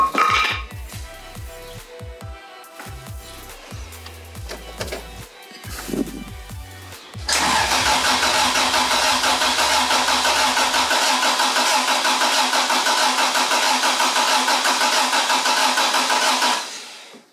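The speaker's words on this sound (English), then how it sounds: "I've disconnected the fuel pump. I've got a fuel pump disconnection switch, so I've just done that so I can spin it over, no fuel going in." A Toyota AE86 engine with a new bottom end is cranked over with its fuel pump disconnected. A few clunks and shuffles come first, then a loud, steady starter churn runs unbroken for about ten seconds without catching.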